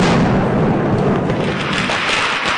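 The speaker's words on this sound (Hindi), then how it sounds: "रात के अंधेरे में आतिशबाजी आसमान में चमक भर देती है।" Diwali fireworks bursting in the night sky form a dense, continuous roar of crackling blasts and rumbling booms, loud and unbroken throughout.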